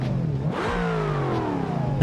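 A car engine in the BeamNG driving game revs hard at a drag strip, a loud, steady roar whose pitch climbs smoothly and holds for the full two seconds, with no talking.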